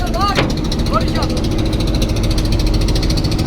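A passenger river launch engine on the Sandhya river in Barisal, idling with a low steady drone and a faint mechanical whine. There is a brief knock near the start and some people talk over it.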